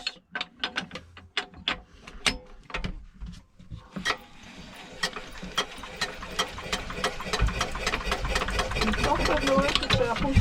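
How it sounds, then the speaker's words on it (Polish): A sailboat's small engine is cranked by hand, giving a run of rapid mechanical clicks and ratcheting pulses that build into a steady, close engine-like chatter by the end, with people talking at times. "wtedy kręcimy korbą no. i silnik nam powinien odpalić"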